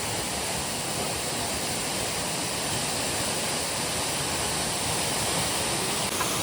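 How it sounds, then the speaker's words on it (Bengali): Changey Falls in Kolakham roars steadily as a broad, continuous rush of falling white water swollen by recent rain, a dense, unbroken wash of noise throughout with no voices. "ওই সামনে বাঁ দিকে সাদা জল পড়ে যাচ্ছে।"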